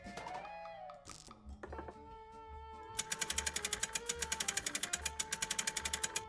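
An impact wrench removes a lug nut from a flat tire in the Nancy Drew game Secret of the Old Clock, heard as a loud rapid rattling burst after some softer clicks and mechanical handling sounds.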